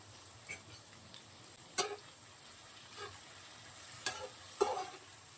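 Carrot, capsicum and cabbage stir-fry in a pan for chow mein, giving a soft background sizzle and a few sharp clacks of a spatula against the pan, quiet and close with no speech.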